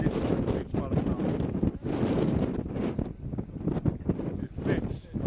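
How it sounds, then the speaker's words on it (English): Strong wind buffets the microphone on an exposed hilltop, a loud, constant roaring rumble with gusty swells that runs the whole time, with a voice speaking through it. "The wind is really powerful up here"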